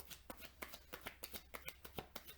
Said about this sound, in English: you can skip through the shuffling part